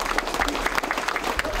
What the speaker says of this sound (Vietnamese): xin mọi người hãy vỗ tay